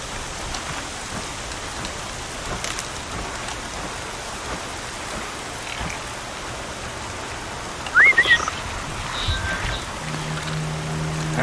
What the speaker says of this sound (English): Here comes the rain. Yeah, it's pouring too.